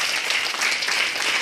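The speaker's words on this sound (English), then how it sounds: "Please give her a big round of applause." A short burst of dense audience clapping in a dental college lecture hall, close and fairly loud, steady across the whole moment without voices over it.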